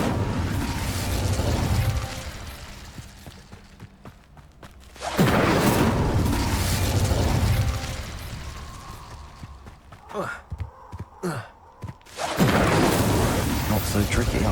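Fire spells, Incendio among them, are cast in the Hogwarts Legacy video game, with loud whooshing bursts of flame swelling and fading in waves, mixed with sharp magical zaps and crackles between the blasts.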